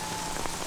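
Rain falling in a brief, steady hiss of patter with no other sounds.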